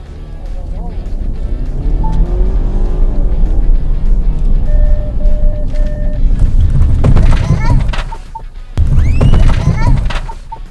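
A Ford Kuga ST-Line runs a 50 km/h braking test toward a balloon target: a loud, continuous vehicle rumble with a person talking over it, a brief dip, then an abrupt return of noise.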